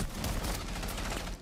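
Rapid gunfire in the video game Rainbow Six Siege, a short dense burst of loud automatic shots filling the moment with no talk.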